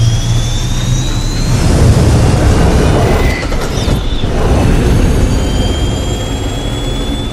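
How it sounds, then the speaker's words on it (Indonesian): A loud, close aircraft engine roars steadily in a film scene, with a continuous broadband rumble and a high turbine whine that shifts in pitch midway. "Dan di sana sudah ada mesin pesawat yang siap menghancurkannya."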